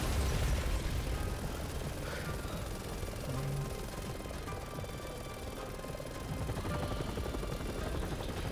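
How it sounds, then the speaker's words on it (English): A helicopter in the video game Resident Evil 6 drones faintly and continuously as a rough rotor rumble, mixed with scattered game noises that sound like distant gunfire. "Oh, there's a helicopter in front of it."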